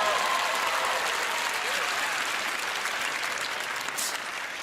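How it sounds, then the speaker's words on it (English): Studio audience at a magic competition show bursts into loud, sustained applause, a dense wash of many hands clapping that holds steady throughout with faint cheering underneath. "Place the mask on, you will get the giantest round of applause you've ever received in your life."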